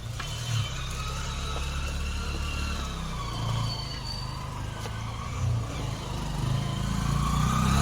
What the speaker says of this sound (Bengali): বাইকগুলো উঠছে উপরে।